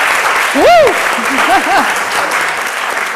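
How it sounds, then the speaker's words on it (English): Conference audience clapping at a panel on gender equality and societal resilience, a steady patter of hands behind a loud cheering whoop and sung, rising vocal sounds from a nearby voice. "this clapping's going to take us a while"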